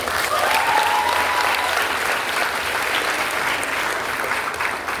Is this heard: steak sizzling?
no